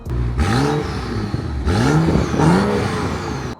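A stock BMW 335i engine revs up three times in quick blips through its quiet factory exhaust, each rising in pitch then dropping back to a low idle rumble, close and loud.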